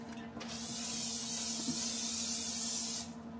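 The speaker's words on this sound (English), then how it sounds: "Correction, olive oil spray." Olive oil cooking spray hisses from a can onto vegetables in a home kitchen, one sustained spray of about two and a half seconds that starts and stops abruptly, with a faint background hum.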